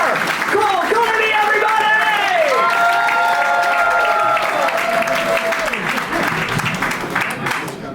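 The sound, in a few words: audience clapping for comedian Kedar Kulkarni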